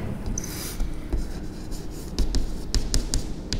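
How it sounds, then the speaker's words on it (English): Pen or marker writing on a surface while working through a determinant problem, a steady close scratching with short strokes and taps, no talking. "I'll write here."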